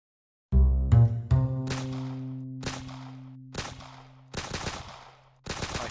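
Gunfire in a Roblox video game: a run of sharp, loud shots with ringing tails. They come in uneven bursts, a quick cluster early on and then spaced single cracks and short volleys, with no talking.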